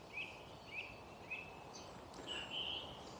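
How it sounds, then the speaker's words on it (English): Several birds singing beside a misty brook on a damp morning, faint high chirps and short repeated calls scattered over a soft, steady background wash. "Can you hear the birds?"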